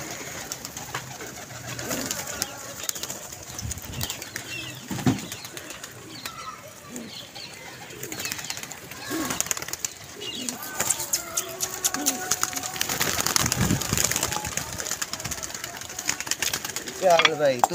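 Pigeons coo steadily while wings flap in brief bursts, with voices talking intermittently nearby throughout.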